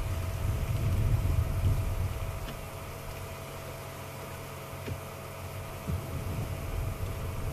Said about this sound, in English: All we can hear is the gentle rustling of the wind.